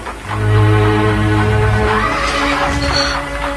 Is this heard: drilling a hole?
no